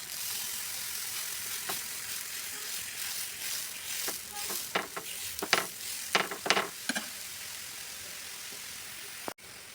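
Dosa batter made from Balamrutham flour cooking on a hot dosa pan, a soft steady sizzle with a few scraping and tapping sounds from a spatula, close by, with no talking.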